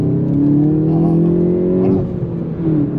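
A Volkswagen Golf 7 GTI Performance with a 245 hp engine revving up close, a loud rising and falling engine tone that climbs, eases off briefly, then picks up again.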